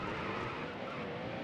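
A race car spins out and skids in a Cup Series racing video game, giving a loud, continuous engine roar mixed with tire scrubbing, steady for the whole short stretch.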